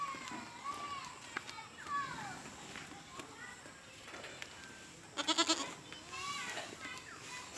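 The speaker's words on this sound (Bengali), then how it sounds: "আর আমার ফেভারিট একটা ছাগল আয় বাবা এটাও প্রেগনেন্ট" Black Bengal goats on a farm bleat several times in wavering, nasal calls, some close and some farther off, with a sharp burst of bleating near the end while people and children talk around them.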